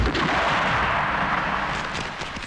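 A pistol shot in an old Indian film rings out as a loud, sustained boom with a long echoing tail that fades slowly over a couple of seconds, with no voices over it.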